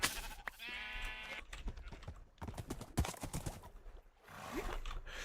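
Minecraft horse mob sounds: a brief whinny and hollow clip-clopping hooves under game noise, with a voice talking faintly.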